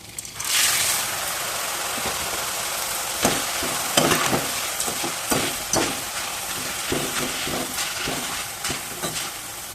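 Curry leaves fry in hot oil with a continuous crackling sizzle, broken by bursts of sharper popping and spattering as they are stirred, close and fairly loud with no talking.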